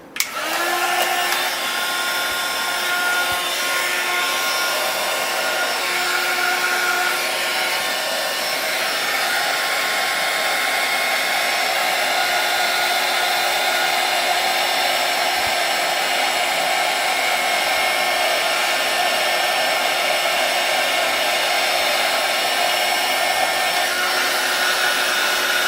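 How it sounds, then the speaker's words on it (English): A heat embossing tool blows a loud, steady hot-air whoosh over embossing powder on a paper butterfly for a card, running continuously and close for the whole stretch with no talking. "we got one more butterfly to heat and emboss"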